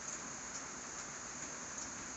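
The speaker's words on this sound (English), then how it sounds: "That'd be snow and rain mixed." Mixed snow and rain falls on a farm in a steady, soft hiss with a faint patter on surfaces and no voices.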